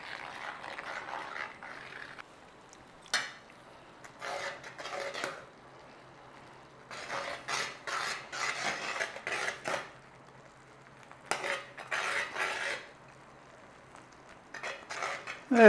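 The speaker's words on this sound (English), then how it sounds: "Nice little stir on." Paneer kadhi being stirred in a pot: a spoon scrapes and clinks against the metal in repeated bursts with short pauses, close and moderately quiet.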